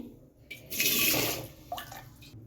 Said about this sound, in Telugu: ముందుగా వంకాయలు తీసుకొని గిన్నెలా నీళ్లు పట్టుకొని